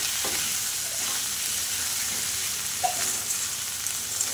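Spice paste with turmeric fries in a pan as the base for a fish and potato curry, a continuous even sizzle with a couple of brief stirring clicks partway through.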